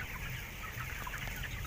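Chickens in the male section of a closed-house poultry barn, a dense, continuous chorus of clucking under a steady ventilation roar, close and fairly loud.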